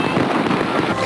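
Distant fireworks crackle and pop in a dense, continuous burst, heard from afar during a Valentine's Day display near the Mall of Asia.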